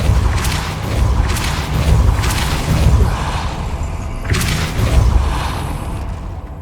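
A Depulso force spell cast in Hogwarts Legacy, heard as several loud whooshing, booming bursts that swell and fade at uneven intervals over continuous game ambience.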